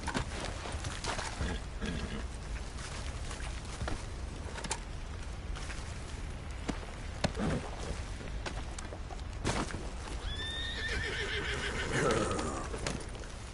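Horses in the Western video game Red Dead Redemption 2 clop along steadily for the whole stretch, then one gives a loud, close neigh near the end, with faint game ambience underneath.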